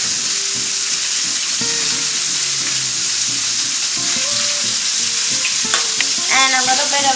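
Salted and peppered pork ribs fry and brown in a pan, making a loud, steady sizzle that runs through the whole stretch over background music with tonal notes.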